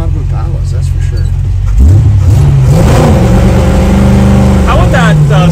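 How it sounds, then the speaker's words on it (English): A big 1963 Chevrolet Impala with a small-block 350 V8 revs up loudly from idle, its engine note climbing and holding a steady rumbling drone on a windy day, with voices talking alongside. "How about that small block 350 putting in some work on a big old car like this?"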